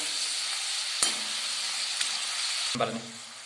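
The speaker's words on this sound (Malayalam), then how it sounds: "ബ്രൗൺ കളർ ആകുന്നിടം വരെ ഇളക്കുക." Homemade french fries frying in hot oil while being stirred until brown, a continuous bright sizzle and hiss with a few sharp knocks of the spoon against the pan.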